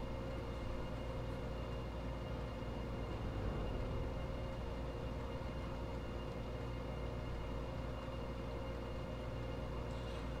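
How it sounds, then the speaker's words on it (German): In Train Simulator 2021 on the Freilassing–Linz route, a train rumbles steadily with a dense, loud low drone and rolling noise as an oncoming train passes, continuous with no talk. "hier kam mir nämlich ein Zug entgegen"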